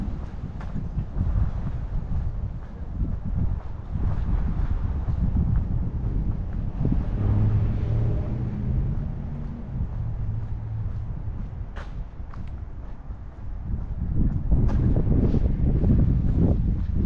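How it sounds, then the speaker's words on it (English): Strong wind buffets the microphone while someone walks against it along a street, a continuous low roaring rumble that surges louder near the end, with no talking. "Walking against the wind here."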